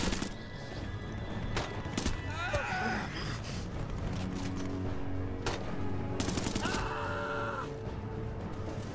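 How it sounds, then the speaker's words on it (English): Gunfire from the war video game Brothers in Arms 3 crackles in scattered bursts and sharp single shots amid a busy battlefield din, with explosive cracks standing out over a constant rumbling background. "So many bullets all around."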